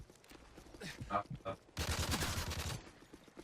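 Gunfire from the shooter video game Modern Warfare 3 (MW3), a burst of rapid shots with a dense sustained volley near the end, loud and close, with faint voices mixed in.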